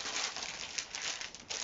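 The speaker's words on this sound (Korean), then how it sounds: "그래서 어떻게 하냐면 이렇게 비닐에다가 감쌉니다." Plastic film crinkles and rustles up close as it is wrapped around plant roots for a hydroponic arrangement of areca palm and bird of paradise, a continuous dense crackle.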